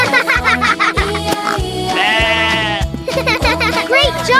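A cartoon sheep bleats in a children's farm-animal song, a long wavering bleat set against a bouncy, rhythmic backing track with sung voices around it.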